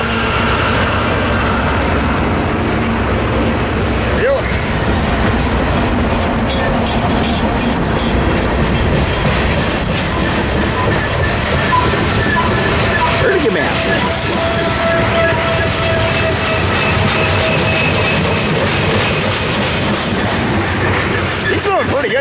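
Freight train CP 7012 rolls past close by near Tehachapi, with a continuous heavy rumble, rhythmic clickety-clack of the wheels and occasional faint wheel squeal, loud and steady throughout.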